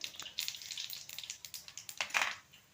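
Steady crackling sizzle of cumin and mustard seeds frying in hot oil, close by, with rapid little pops and a louder flare of spitting near the end.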